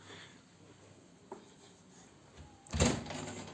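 A door at home is shut during a hide-and-seek game, heard as a soft knock and then a louder thud and rattle of the closing door near the end, over a quiet room.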